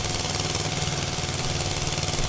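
An Eicher 241 tractor engine in Farming Simulator 22 chugs steadily at a constant pace, a close, continuous rough drone with rhythmic knocking pulses.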